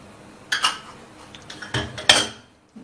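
Coriander seeds stirred in a metal pan with a spoon while making raw mango pickle, a few sharp scraping clinks in uneven bursts, close and clear with no talking.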